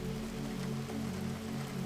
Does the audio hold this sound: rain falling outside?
yes